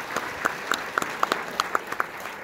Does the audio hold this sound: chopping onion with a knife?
no